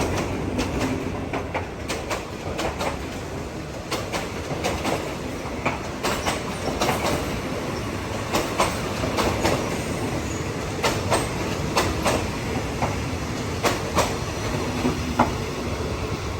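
A steam locomotive train runs along the rails in Thailand, with steady rumbling and repeated clickety-clack wheel beats over rail joints. The sound is loud and continuous and carries an occasional squeal.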